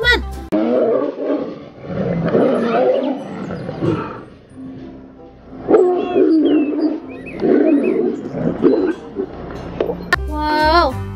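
A large tiger in the video game Jurassic World Evolution 2 gives loud, deep roars and growls in bursts across the clip, with brief quieter pauses between them.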